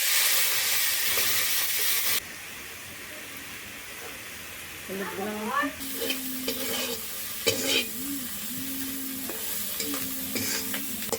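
Prawns fry in oil in a wok, opening with a loud, dense sizzle that settles into a quieter crackle with stirring sounds, while someone speaks briefly over it.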